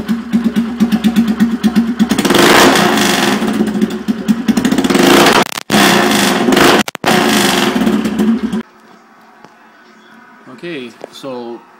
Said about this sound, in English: I'm going to see what it sounds like with no exhaust.